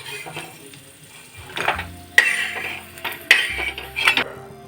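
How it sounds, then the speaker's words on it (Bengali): Metal utensils scrape and clink against a pan and bowl, a few sharp knocks among soft rattling as fried nuts are scooped and transferred, close by with no talking. "বাদামগুলো ভাজা হয়ে গেছে একটা পাত্রে তুলে নিচ্ছে"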